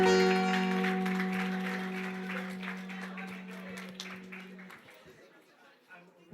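An audience at a youth concert applauds a singer, with faint scattered clapping and crowd murmur as sustained music fades out, leaving a few isolated claps at the end.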